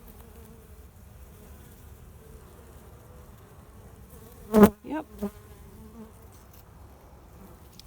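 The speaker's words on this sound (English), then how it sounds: "Some bees still bringing in pollen." Honey bees on a hive frame from a small colony give a faint, steady hum throughout, broken midway by a brief loud handling clatter and a short spoken word.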